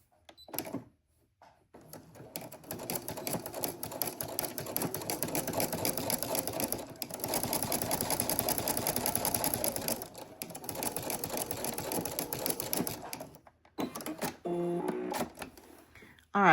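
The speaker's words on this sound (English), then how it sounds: "And we're going to stitch down this side, okay?" A sewing machine stitches a seam on a quilted pot holder in a steady whirring run, pausing briefly near the start and again toward the end, then restarting in shorter bursts, close and moderately loud.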